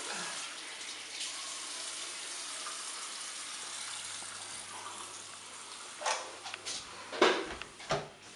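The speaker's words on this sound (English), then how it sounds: "This is the shower." Water runs steadily in an apartment shower, a broad hiss throughout with a few louder splashes and knocks near the end.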